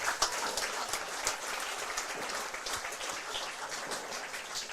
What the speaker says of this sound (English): Let's give those guys a nice round of applause.